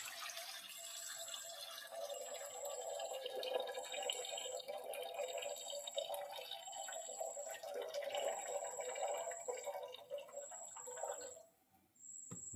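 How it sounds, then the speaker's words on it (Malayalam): Soaking water poured off soaked rice through a strainer, a steady close trickling flow that thins near the end, with a faint intermittent high beeping tone in the background. "ആ പുതിർത്തി വെച്ച അരിയുടെ വെള്ളം ഒന്ന് നേർക്ക് ഊറ്റിക്കളയാം."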